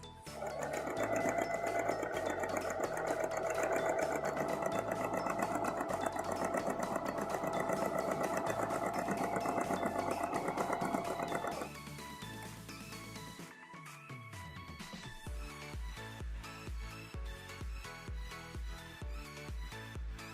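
A sewing machine stitches pocket pieces onto a Simplicity 9041 dress, running in a steady, close, continuous whir for about eleven seconds before stopping, followed by quieter handling sounds and a lighter rhythmic mechanical patter.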